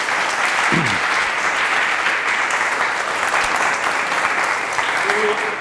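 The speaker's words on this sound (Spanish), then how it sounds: "recibamos por favor con un caluroso aplauso" An audience applauds steadily to welcome a physics lecturer speaking on Einstein's relativity and black holes, the dense clapping sustained and fairly loud throughout, with a brief voice in the background.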